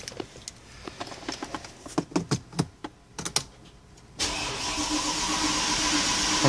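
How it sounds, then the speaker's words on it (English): A Mercedes engine with a damaged original ECU and no spark to the coil is cranked after a series of sharp clicks; a sustained, loud churning starter noise follows without the engine catching. "it spins over, but it won't start because the original ECU is damaged"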